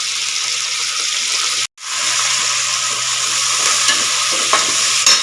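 Steady loud sizzling and frying of tomato, coriander, mint and spices in a pan, with stirring scrapes and a brief break in the sound partway through.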